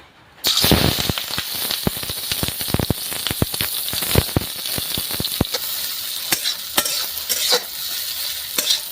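Peas fry in hot oil for a Bengali pea dish, with a dense, steady sizzle broken by frequent sharp crackles and pops, close and loud throughout.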